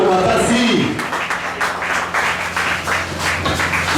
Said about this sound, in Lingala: Acclamez très fort pour ces versets.